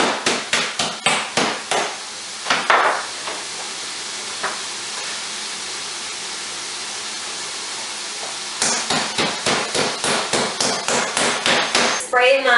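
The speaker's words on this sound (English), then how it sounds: "The first thing that I do is I'm going to beat my chicken." Chicken pounded with a meat tenderizer on a kitchen counter: rapid runs of sharp, loud thuds at the start and end, with a quieter stretch in between.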